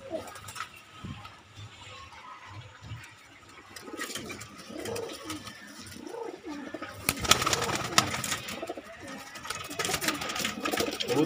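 Pigeons, a lot of desi high-flying birds, coo softly in a low, repeated rhythm, close by, with someone talking over them and some rustling.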